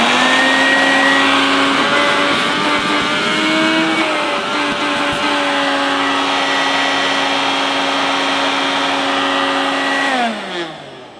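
A Hoover S1262 Dustvac mains-powered handheld vacuum cleaner runs with a loud, steady whine and a rough vibrating edge, its pitch dipping slightly midway, then spins down as it is switched off near the end.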